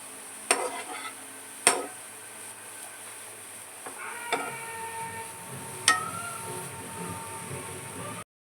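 Grated carrot cooks slowly in a pan over a low flame for carrot halwa, with a soft steady sizzle broken by a few sharp scrapes and clacks of the stirring spoon.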